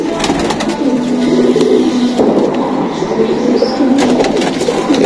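Adult pigeons coo continuously inside a loft, several birds overlapping in a close, loud, throaty rolling murmur with occasional chirps and rustles.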